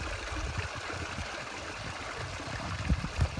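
A water bottle being filled in a mountain stream on a sheep hunt: steady, soft gurgling and trickling water, faint and close, with a couple of low thumps near the end.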